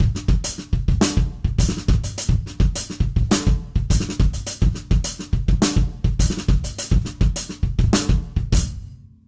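Funk drum beat played on a kit, steady kick, snare and hi-hat pattern with the kick landing on the e of beat four, loud and close, repeating throughout with no talk before a final decay.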